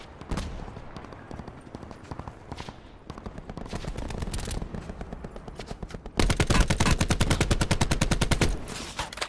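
Machine gun fire in a shooter game: short separate bursts ring out early, then a long, loud, evenly pulsing automatic stream takes over, close and sharp, before tapering off.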